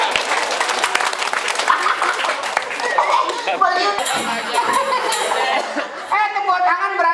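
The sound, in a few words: audience applause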